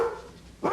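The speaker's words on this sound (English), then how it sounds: "barking at the mailman just comes naturally" A dog gives one short, sharp bark near the end, close and fairly loud, after a brief quiet stretch.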